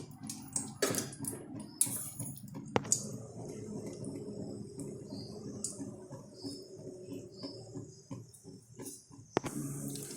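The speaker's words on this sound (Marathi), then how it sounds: "मोहरी तडतडली" Mustard seeds splutter in hot oil in a pan, giving quiet scattered sharp pops and crackles over a soft low sizzle.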